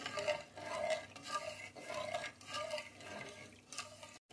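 Spoon stirring 50 grams of sugar into water to dissolve it, a steady swishing, clinking liquid rhythm in repeated strokes, close and fairly loud with no talk.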